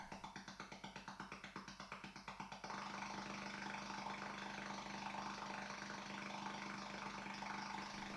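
A simulated helicopter engine in the Tomahawk game on a Dragon 32 computer starts with a pulsing chug, then settles into a steady, droning buzz that runs on alone at a modest level.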